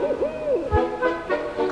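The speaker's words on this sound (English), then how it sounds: "This place is a haven for dozens of sick and injured wild owls." Several owl hoots ring out at a sanctuary for sick and injured wild owls, clear and fairly close, a short run of wavering calls with no talk over them.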